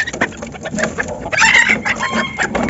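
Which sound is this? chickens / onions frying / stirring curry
chickens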